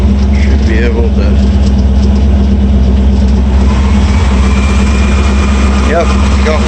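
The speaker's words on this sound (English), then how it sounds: "Idle's way too high" A 1960 Ford F100 engine idling too high after a carburetor rebuild, heard as a loud, steady, close engine drone with no rhythmic breaks, while people talk intermittently over it.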